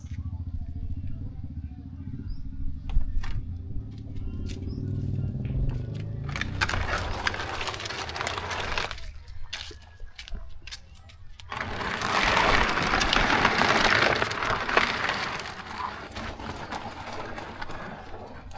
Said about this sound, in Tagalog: So hindi natin inasahan na abutan tayo ng ulan. Malakas pa naman ng ulan dito guys.